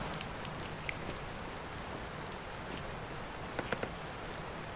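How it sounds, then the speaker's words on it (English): Steady, faint rain is heard from inside a building in the video game Rising World, a soft continuous hiss with a few sharper drips and taps landing on the roof. "you can still hear the rain from inside."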